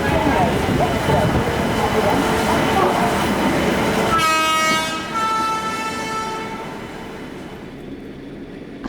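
The Mumbai–Chennai Express stands at an Indian railway station. Broad, steady rumble and crowd noise give way to a long, loud horn blast that fades out, with station noise continuing underneath.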